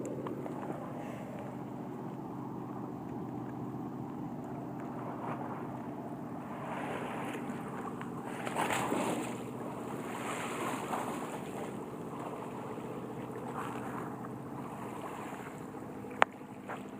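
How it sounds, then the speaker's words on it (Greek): Sea waves wash and break on the beach at Marina Green in San Francisco, a soft continuous surf rumble with a swell of louder breaking midway, distant and fairly faint under light wind. "Δεν ξέρω αν ακούτε τα κύματα που χτυπάνε."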